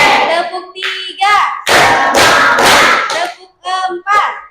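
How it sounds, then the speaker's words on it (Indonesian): A school class claps hands in a counted rhythm led by a teacher, sharp bursts of clapping alternating with the teacher's spoken counts and brief pauses. "Tepuk 1, tepuk 2, tepuk 3"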